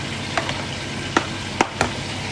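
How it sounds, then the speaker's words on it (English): Fish fries in hot oil for a stew, a constant loud sizzle broken by a few sharp clicks and taps of a utensil against the pan. "I am frying fish for the stew."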